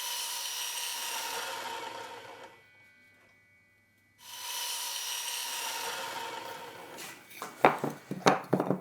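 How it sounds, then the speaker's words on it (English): Wood pieces are cut at 45 degrees on a miter saw: two sustained whining, rasping cuts separated by a quiet pause, then a few sharp knocks and handling clatter near the end, close and alone. "I'm going to make use of the miter saw to cut them at 45 degrees."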